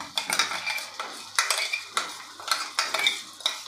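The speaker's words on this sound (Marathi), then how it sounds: "छान असं हे परतून घ्यायचं आहे आपल्याला तेल सुटेपर्यंत।" Ground masala paste fried in oil after ginger-garlic paste and stirred for egg tikka masala, the spoon scraping the pan in steady repeated strokes with a light sizzle beneath, close and moderately loud, no talking.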